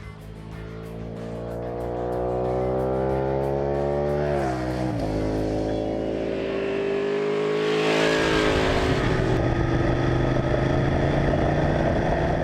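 A Ducati 899 Panigale motorcycle engine revs steadily, its pitch climbing and dipping as it accelerates, loud and close with a rough mechanical growl throughout.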